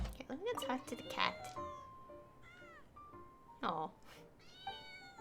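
A cat in Genshin Impact gives several short meows in a row over quiet game background sound, and a person briefly talks between the calls.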